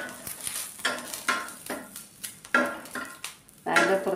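Green chillies tossed in hot oil in a pan for egg curry, with a run of scraping, clattering stirs and a light sizzle underneath, close and fairly loud.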